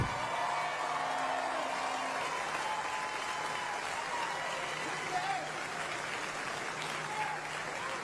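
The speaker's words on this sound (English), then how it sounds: "one more round of applause for our incoming Hall of Famers" A large audience applauds steadily for a Louisiana Sports Hall of Fame inductee at a celebration ceremony, a dense, continuous wash of clapping with scattered voices underneath that holds at an even level throughout.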